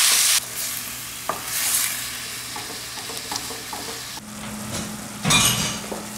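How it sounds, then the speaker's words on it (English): Ground lamb browning in a pan for shepherd's pie, broken up with a wooden spoon, giving a loud sizzle with clattering scrapes and knocks of the spoon and bursts of intense frying noise. "Next in goes our ground lamb. And we'll cook this until it browns"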